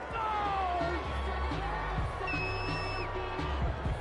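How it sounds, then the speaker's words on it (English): Home crowd in a football video game on PS4 cheers after a penalty flag, a steady roaring crowd bed with whoops and musical tones over it. "This home crowd, they're happy with that call."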